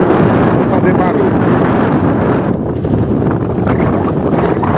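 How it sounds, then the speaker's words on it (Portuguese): Strong wind buffets an outdoor microphone on the main road into Jatobá in the Brazilian sertão, a loud, continuous broadband roar and rumble lasting throughout with no pauses. "E o vento hoje está bravo."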